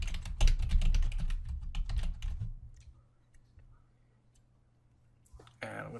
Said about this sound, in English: in the search field, I'm gonna type in searching with tax keys